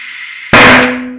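An air cannon fires a single sharp, very loud blast to seat a tire bead. The burst comes up close after a low hiss and rings off quickly.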